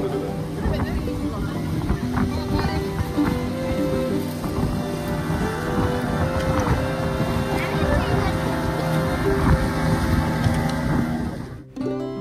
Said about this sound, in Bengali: পালোলিম বিচ থেকে স্পিড বোটে করে আমরা সবাই মিলে চললাম বাটারফ্লাই বিচের উদ্দেশ্যে